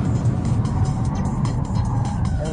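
A 2009 Nissan GT-R accelerates on a test track. A loud, continuous engine roar holds steady throughout with no talking.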